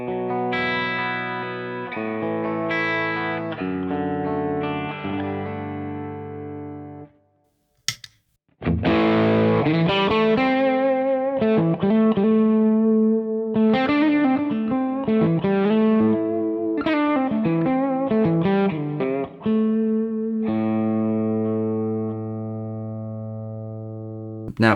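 Electric guitar through a Kernom MOHO fuzz pedal with every knob, electricity control included, near noon: thick fuzzy chords and riffs, a short pause and string thump, then busier playing ending on a held chord, loud and alone.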